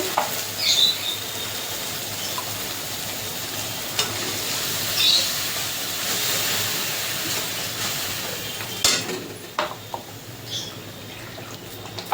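A poppy seed and green chili spice paste for prawn malai curry sizzles in a pan, with a steady frying hiss broken by scraping stirs and occasional sharper clinks.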